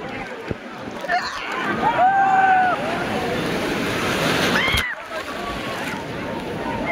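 Sea waves wash in at Digha beach, a close, steady surf roar with splashes and wind on the microphone, while people talk and call out over it.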